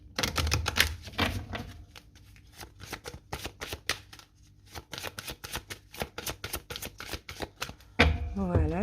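Oracle cards being shuffled and cut by hand, with quick riffling slaps and flutters repeating close to the microphone, ending in a brief voice.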